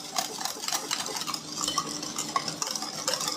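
A utensil stirs semolina and cornstarch batter in a bowl for basbousa, giving close, rhythmic clinks and soft scraping against the sides, with no talking.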